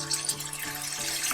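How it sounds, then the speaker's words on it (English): A small splash of water is poured into a pan of chicken cooking with mustard greens, a soft brief trickle with a faint steady hum from the stove behind it. "I'm going to add some water. Just a little bit of water,"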